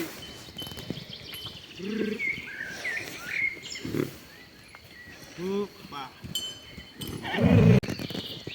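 A small Hutsul mare being loaded into a horse trailer: hooves thump and clatter in short bursts with snorts and a whinny-like call, ending in a loud close bang, with people talking around it.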